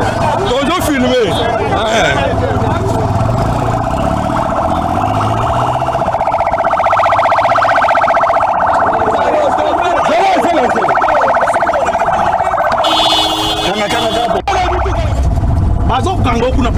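Street siren of an ambulance with police on scene, a loud continuous wailing tone holding throughout with traffic and crowd noise around it and people talking over it.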